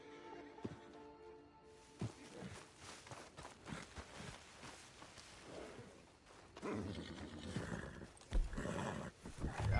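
A horse in Red Dead Redemption 2 Online moves over ground in uneven hoofbeats that grow busier and louder toward the end, with a brief whinny, under a droning game background.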